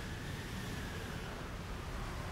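Steady rushing of running water near a spot in the Tomb Raider video game, a continuous broadband wash that holds at an even level throughout with no talking.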